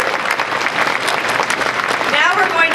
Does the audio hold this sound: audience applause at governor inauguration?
yes